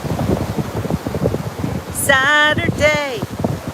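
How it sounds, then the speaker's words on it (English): Gusty wind on a beach buffets the microphone with a steady rough rumble, and a brief voiced sound rises over it midway. "It's very windy out here"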